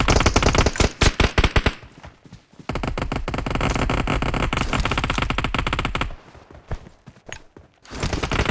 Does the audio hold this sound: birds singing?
no